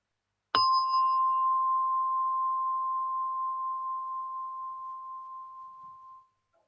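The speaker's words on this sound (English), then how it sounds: "with the sound of a gong, I will lead you" A single gong strike opens a meditation session, a clear sustained tone that rings alone and slowly fades over about six seconds.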